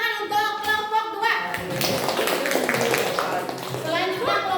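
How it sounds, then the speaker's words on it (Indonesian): A classroom of children claps for a group of classmates, a busy patter of hands in the middle with children's voices talking before and after. "Sekarang tepuk tangan untuk kelompok 2"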